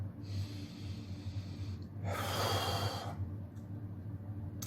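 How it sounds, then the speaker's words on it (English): A single long, sharp sniff through the nose, close and fairly soft, over a quiet background hum. "I'm going to have a little cheeky sniff from here"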